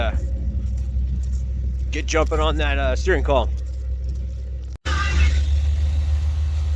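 A 1987 Chevy 1500 pickup, just restarted after sitting nearly two years, idling with a steady low rumble throughout while someone talks over it.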